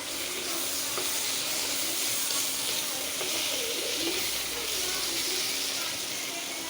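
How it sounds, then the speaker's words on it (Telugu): Raw prawns and drumstick pieces fry in a pan with a steady, close, even sizzle that runs throughout without a break. "కొంచెం వేగుతూ ఉంటుంది."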